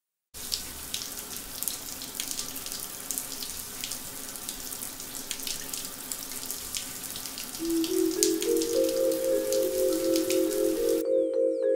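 Cartoon shower water running steadily from South Park, a broadband hiss of spray with a rising tonal pitch entering near the end before cutting off abruptly.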